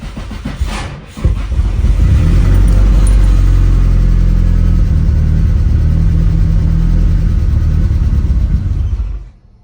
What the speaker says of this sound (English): But let's see if the car starts.